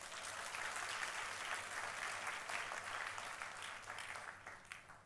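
A small, scattered round of clapping from a church congregation during a sermon, faint and steady for a few seconds before thinning out.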